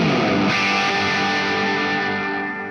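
A guitar amplifier driven hard into heavy distortion, heard from the front of the amp: a dense, loud, sustained distorted tone that rings on steadily and fades slightly at the end.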